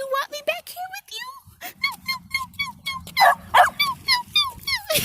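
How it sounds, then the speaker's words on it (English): A pet dog gives a rapid run of high yips and barks during an outdoor walk, close and loud, while someone talks over the barking. "Who you barking at? Don't bark at me."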